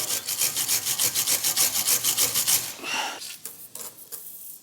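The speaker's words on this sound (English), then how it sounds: "First, brush it out." Stiff brush scrubbing out the bolt heads on a BMW E90 318d rear wheel hub: quick, even back-and-forth strokes, close and loud, then a short final scrape before it stops.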